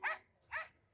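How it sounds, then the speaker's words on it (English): Dogs at a north Florida orchard give two short, sharp yips about half a second apart, close and moderately loud, with faint background noise between them. "Sorry for the dogs."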